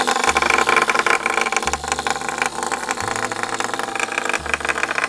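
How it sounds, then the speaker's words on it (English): A small battery motor whirs inside a Num Noms toy as it rolls around, a close buzzing rattle that persists throughout under a looping music track. "this one has a little motor."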